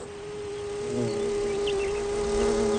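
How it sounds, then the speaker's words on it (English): Insects buzzing around flowers, a steady droning hum that rises a little in volume as if drawing nearer, with faint extra buzzes flickering above it and no voices. "The insect would visit a flower for a dinner of protein-rich pollen."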